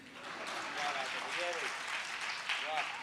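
Audience applause at a Hindi comedy poetry recital, a steady broadband clapping wash lasting the whole moment, with faint voices and stray calls rising briefly above the crowd.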